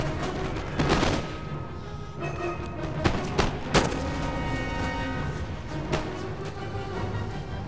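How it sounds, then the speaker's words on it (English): Massed musket platoon fire in Empire: Total War, with repeated volleys popping in uneven bursts over a dense, constant battlefield din of distant shots and noise. "get some platoon fire. It's very effective."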